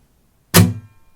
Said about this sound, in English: Okay, so next up we have muted strums.